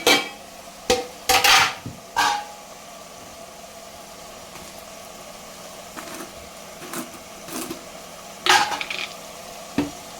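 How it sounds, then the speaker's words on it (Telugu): Sliced okra tipped into a pan and stirred for a tangy okra stew, with a few loud clattering scrapes and knocks of a spoon against metal over a low steady hum, the hits sporadic and close. "బెండకాయలు వేసేసుకుందాం."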